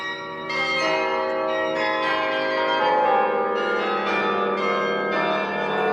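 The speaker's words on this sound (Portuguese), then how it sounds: "Hoje vamos centrar-nos nos monumentais carrilhões encomendados pelo rei magnânimo para as suas torres." Monumental carillon bells in church towers ring in a full, resonant peal, several tuned bells striking repeatedly with long overlapping sustain, loud and close with no voices.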